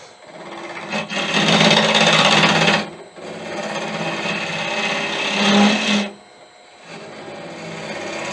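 Round carbide tool cutting Irish bog oak on a wood lathe while turning a chalice: a loud, steady scraping rasp in two long passes with a brief break between them, then a quieter hum.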